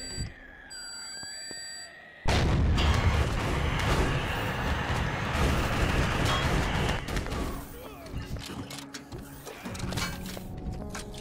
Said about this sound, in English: Use the C4.